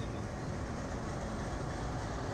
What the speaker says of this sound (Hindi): Super fast express.